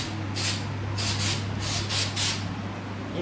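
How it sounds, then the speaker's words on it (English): Insect spray hisses onto the floor in several short bursts, moderately loud and close, with a steady low hum underneath. "When you spray in here with some of the insect spray"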